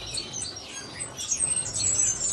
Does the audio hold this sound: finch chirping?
yes